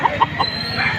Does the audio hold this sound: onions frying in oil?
no